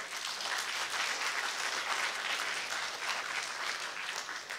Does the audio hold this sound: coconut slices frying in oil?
no